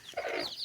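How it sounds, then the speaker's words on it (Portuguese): A mother hen tied up on a farm plot gives a short, soft cluck near her chicks, a brief single call that sits close by over quiet outdoor background. "A mamãe galinha tá ali amarrada para não fugir."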